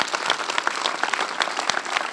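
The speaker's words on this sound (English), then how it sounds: "So clap it up real quick." Steady, moderately loud applause rises from an event audience in Minneapolis, with many hands clapping in a continuous patter and no talking over it.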